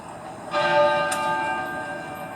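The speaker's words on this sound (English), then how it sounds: "At 9:08 a.m, the great tenor bell at Westminster Abbey began to toll." The great tenor bell of Westminster Abbey tolls once with a loud, resonant strike, its long humming ring sustaining and slowly fading over a faint background.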